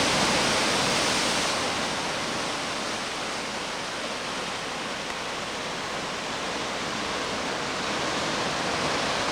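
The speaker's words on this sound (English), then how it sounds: "Some nice waves breaking right now." Ocean waves break on the rocky western shore at Sooke on Vancouver Island, producing a continuous, dense roar of surf that stays steady and loud throughout, with no voices.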